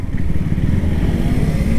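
A 2021 KTM RC 200 motorcycle on a race track in Ahmedabad, its engine droning loud and close at a steady rumble with a fast pulsing beat, no talk over it.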